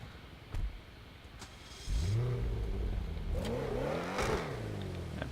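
Audi S3 in GTA 5 firing up: a short crank, then the engine catches with a loud bark and settles into a close idle, followed by a series of rising and falling revs with a slight crackle.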